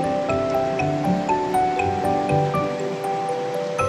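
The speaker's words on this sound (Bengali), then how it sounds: "ঝোলটা আমার ফুটে উঠেছে, ফুটে গেছে।" Rui fish curry broth, a thin jhol with potato, bubbles steadily in a pan, giving a continuous close, moderately loud bubbling hiss with small scattered pops and no talk.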